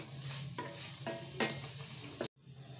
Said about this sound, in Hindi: अब इसमें टमाटर को अच्छे से पकने तक हम धीमी आंच में पकाते रहेंगे